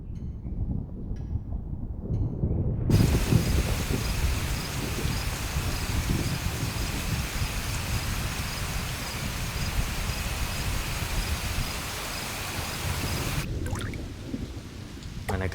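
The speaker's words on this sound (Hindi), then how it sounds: "आज बारिश होगी।" Steady rain pours down in a Hindi film scene, a dense continuous wash with low rumbling that may be thunder, starting abruptly after a quiet moment and cutting out near the end.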